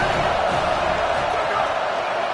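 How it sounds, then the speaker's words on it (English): Stadium crowd at a football game roaring steadily for the defense on third down, a dense, sustained wall of cheering with no breaks. "Decibels rising as the crowd gets behind this defense on 3rd down."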